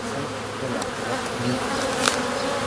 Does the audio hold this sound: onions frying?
no